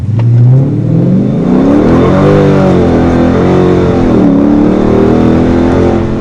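A car on Nitto NT555 G2 tires accelerates hard, its engine note rising and falling through revs in a loud, close, continuous roar.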